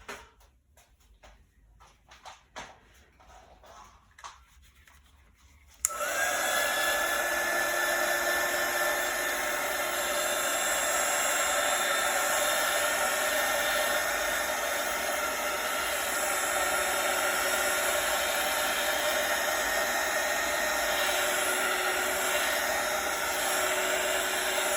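A heat tool blows hot air across a wet acrylic pour painting, kicking in abruptly after a few quiet seconds and then roaring steadily and loudly close by with a constant whirring hiss.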